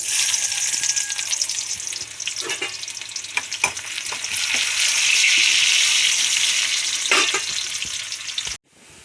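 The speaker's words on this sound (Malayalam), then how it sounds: "വെണ്ണ കാഞ്ഞു ഉള്ളി ഇടുന്നു" Onions dropped into hot oil in a pan on the stove sizzle loudly and steadily for several seconds, with intermittent scraping and stirring clicks, before cutting off abruptly at the end; no voices.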